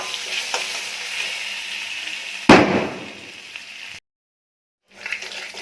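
Grated ginger drops into hot oil in a pan with bay leaf and dried red chilli, setting off a sudden loud burst of sizzling. A softer steady fry follows, then a brief silence before the frying resumes.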